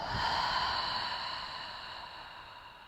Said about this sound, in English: 1 deep breath here. Inhale. Exhale.